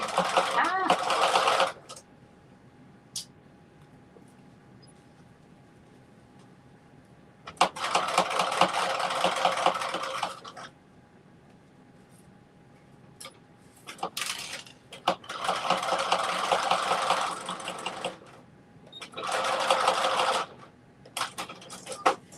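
Sewing machine stitching a headband and mittens in several bursts of steady mechanical whirring, separated by quiet pauses; close and fairly loud, with a voice talking lightly between runs.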